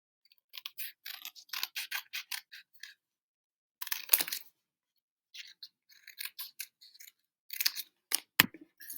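Scissors snip through thin cardboard in quick clustered bursts of crisp cuts, close and clear, separated by silent pauses.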